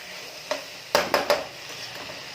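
Metal spoon scraping and clanking against a pan while irekayi palya is stirred in oil, a few sharp knocks in quick succession over a faint, quiet background.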